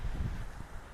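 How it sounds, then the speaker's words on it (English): Wind blowing outdoors during a hurricane, a brief loud rumbling buffet of gusts against the microphone, heard alone. "It's windy out there."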